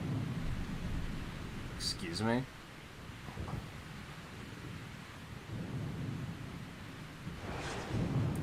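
Thunder from lightning attacks in the Mario Golf: Super Rush video game rolls and rumbles low and steady, with a few sharp zapping crackles, while a person speaks briefly over it.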